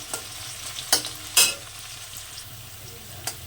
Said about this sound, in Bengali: পেঁয়াজ কুচি পেঁয়াজটাকে একটু ভেজে নেবো আমি হালকা